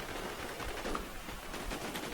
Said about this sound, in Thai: ตอนนี้เสียงปืนกันเดือดจัง